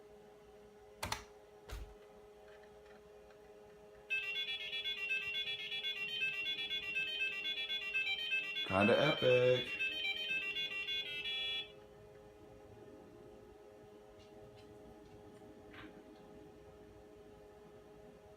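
Beeping, thin square-tone music from the built-in speaker of an IBM PS/2 Model 25-286 plays an old-school role-playing game's intro for about seven seconds. Quiet keyboard clicks come before it, and someone briefly speaks afterward.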